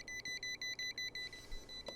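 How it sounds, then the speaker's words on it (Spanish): A Kaiweets KM602 multimeter detecting live voltage gives a rapid run of seven or eight evenly spaced high-pitched beeps, clear and close, followed by a brief click. "ya nos está pitando y indicando en pantalla que ha detectado alta tensión"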